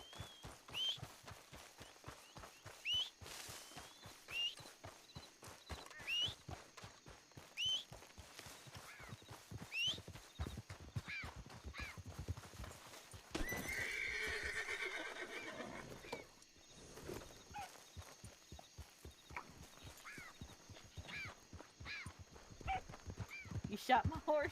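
Horse whinnies and clip-clop hooves in a roleplay video game, with short calls scattered through the clip, a burst of noise midway, and someone talking throughout.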